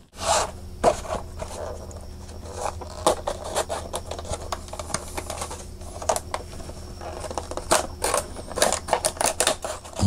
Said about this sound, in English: I'm going to actually cut each of these open with a knife because I want to keep the cards nice on them